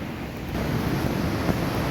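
Ocean waves wash steadily onto a beach shore at San Felipe, a continuous broadband roar mixed with wind buffeting the microphone.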